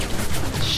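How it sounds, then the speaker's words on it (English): A tactical shooter game sounds a brief burst of rapid gunfire, dense and loud, lasting under a second with no voices. "I'm shooting."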